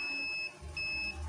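Electronic buzzer tone from a multimeter continuity test on a shorted horizontal output transistor in a TV with no power, sounding as two steady high beeps with a short gap, faint low hum beneath.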